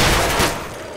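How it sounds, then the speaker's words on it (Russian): Gunfire rattles through a Left 4 Dead 2 match as a loud, close burst of rapid shots that fades into a softer tail. "Отличный выстрел!"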